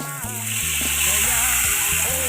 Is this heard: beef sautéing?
yes